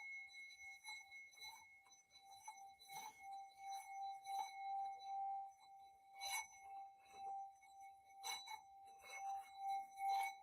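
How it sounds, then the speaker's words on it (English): A singing sound bowl is struck repeatedly, each strike leaving a steady, sustained metallic ring that hangs between hits; quiet and close, with no voices. "let's do that with our trusty sound bowl"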